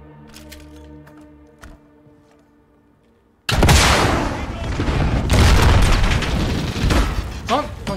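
A grenade blast in Call of Duty Modern Warfare (2019) tears in suddenly and loudly after a quiet stretch, followed by sustained booming gunfire and explosion noise that stays loud to the end.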